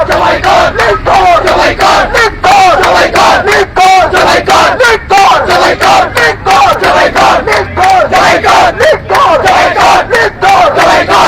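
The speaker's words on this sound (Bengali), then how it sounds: "আমরা দেখছি তারা স্লোগান দিচ্ছে আমরা শুনতে চাই তাদের স্লোগান" A crowd of protesters marching toward the Indian assistant high commission residence in Chittagong chants slogans loudly and rhythmically, with repeated call-and-response phrases over steady crowd noise.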